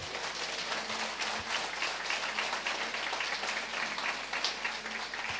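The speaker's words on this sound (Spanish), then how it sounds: "Fuerte aplausos a Cristo Jesús." A church congregation breaks into strong applause during a sermon on marriage; a dense, even roar of many hands clapping, sustained and fairly loud with no pauses.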